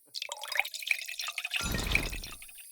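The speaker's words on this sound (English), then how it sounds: "Pouring some wine." Wine poured in a tavern-management video game, a close, steady liquid stream that sets in partway through after a few light clinks and drips, continuing to the end with no talk.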